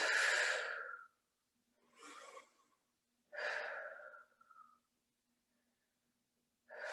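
Slow, audible breaths during a seated neck stretch: a long exhale, a shorter breath, then another drawn-out exhale, close and soft with quiet pauses between.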